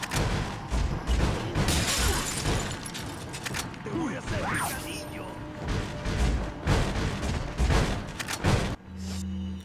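Shotgun blasts from the Resident Evil 4 video game ring out as repeated loud booms over a dense, busy game soundscape, with a voice audible in the mix.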